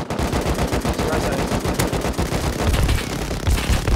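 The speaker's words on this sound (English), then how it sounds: "Damn, that minigun." Sustained rapid automatic fire from a minigun in the survival game Rust, loud and continuous with dense rattling bursts throughout and heavier low thumps toward the end, under faint voices.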